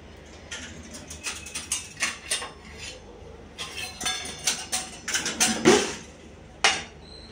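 Plates are handled in a home kitchen while cheese sandwiches are served, giving irregular ceramic clinks and taps close by, with a louder knock near the end and brief gaps between the sounds.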